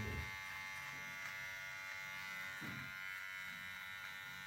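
A VGR V-265 electric hair trimmer runs continuously, a steady close-up buzz that holds at an even level throughout, with slight shifts in tone as it is handled.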